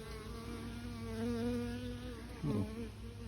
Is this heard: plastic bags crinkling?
no